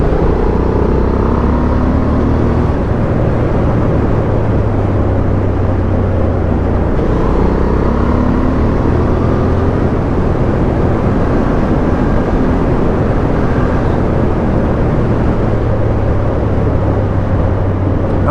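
A 2023 Honda Hornet parallel-twin motorcycle cruises on the road, its engine a loud, continuous, close-up drone mixed with heavy wind noise, with gentle shifts in pitch as speed changes.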